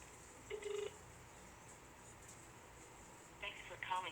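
A phone keypad dials a hotline number: two brief bursts of keypad tones, one early and one near the end, over a quiet background line.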